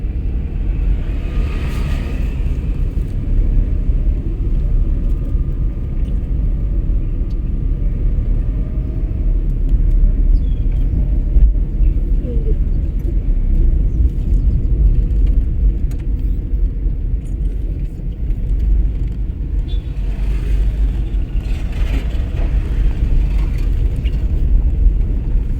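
Car driving during a driving lesson while shifting into second gear, a steady close engine drone and road rumble from inside the cabin, with faint brief clicks and no talking.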